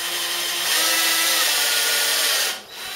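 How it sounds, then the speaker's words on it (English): A power drill fitted with a homemade attachment pulls a mount during a 940 Y mount install, running steadily and loudly with a whirring grind for about two and a half seconds before cutting off near the end. "Now I have a attachment I made for the drill"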